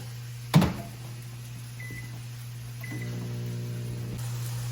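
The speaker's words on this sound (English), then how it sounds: "put it in the microwave for 5 minutes" A microwave oven heating a cup of rice and water gives off a steady low hum, with a thump of the door closing, a couple of short beeps, and the motor starting up and whirring on.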